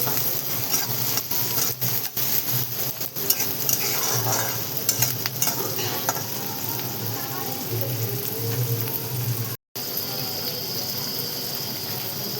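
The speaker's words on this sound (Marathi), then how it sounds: "मस्त कांदा टमाटर आता मऊ करून घेणार आहे" Onion and tomato soften in a hot pan for a dried bombil chutney, making a steady low sizzle under repeated spoon stirring and clinks, with a voice talking now and then.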